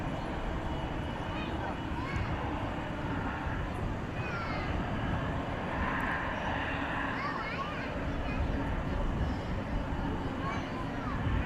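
A jet airliner rolls for takeoff at night at DFW Airport, a continuous broad engine roar heard from a distance beneath steady talk.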